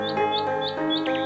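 A bird in an animated German fairy tale sings a repeating high chirping phrase over a steady bed of music, with the tweets rising and falling a few times across the moment.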